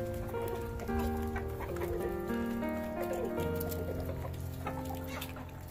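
A small flock of backyard hens, kept in a modest home setup and fed grain and kitchen scraps, cluck and murmur continuously nearby, with overlapping calls and light scratching under a steady background.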